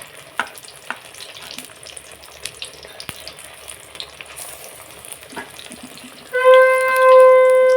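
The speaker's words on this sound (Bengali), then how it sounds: "খুন্তি দিয়ে উল্টাচ্ছি" Potato slices coated in gram-flour batter sizzle in oil as a spatula turns them, a continuous crackling fry with scattered scraping taps, close by, then a rising steady tone near the end.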